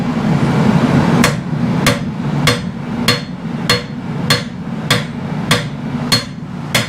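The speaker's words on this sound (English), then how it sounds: "Hammer on this side." A blacksmith hammers a blade during bladesmithing, about ten sharp, evenly spaced metallic strikes following a brief pause, ringing over a steady low roar of forge noise close by.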